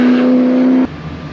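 A modified Nissan GT-R's engine holds a loud, steady note for under a second, then cuts off sharply to a low idle rumble.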